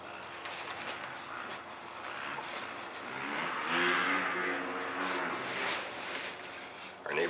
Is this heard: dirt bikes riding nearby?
yes